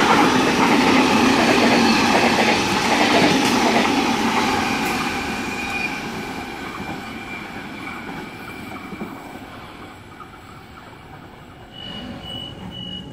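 A C-set passenger train rolls through a suburban station, loud and close at first with rumbling wheels and squealing, then gradually fading as it moves away, leaving a faint hum.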